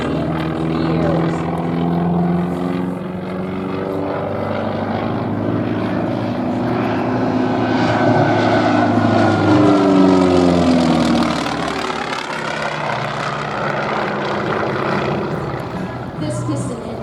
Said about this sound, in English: This piston engine military trainer was used by the United States Air Force, Navy, and Marine Corps